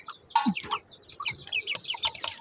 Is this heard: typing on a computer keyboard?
no